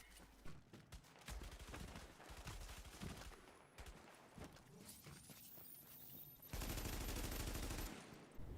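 A Vector firing in The Division video game pours out long rapid bursts of gunfire, a dense automatic rattle that empties most of a magazine, loud and close with short gaps between strings of shots.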